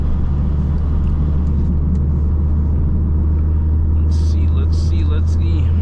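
An Audi S3 with upper and lower inserts launches hard on a freeway, its engine and road rumble droning loud and steady from inside the cabin throughout.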